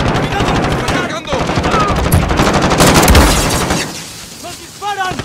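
Rapid gunfire and bursts from the Call of Duty Warzone video game, dense and loud through most of the stretch before easing off near the end, with game effects over it.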